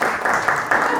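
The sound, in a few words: round of applause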